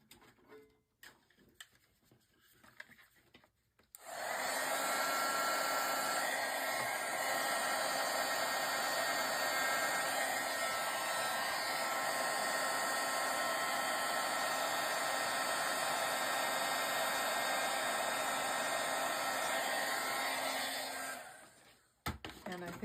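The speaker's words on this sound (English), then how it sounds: "now we'll get our heat tool. We'll get it heated up" A craft heat tool heating up, a loud steady blowing hiss that starts abruptly after a few seconds of quiet and runs for about seventeen seconds before cutting off.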